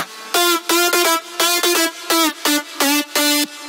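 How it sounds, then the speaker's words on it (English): A future house synth lead run through EQ, distortion, reverb and OTT plays bright, rhythmic stabbing notes. Reverb tails fill the gaps, so the sound is dense and continuous. "But with the effect it sounds like this."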